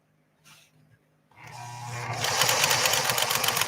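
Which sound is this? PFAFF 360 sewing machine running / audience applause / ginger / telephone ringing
PFAFF 360 sewing machine running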